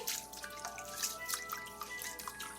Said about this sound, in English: You run it again, and you wash it.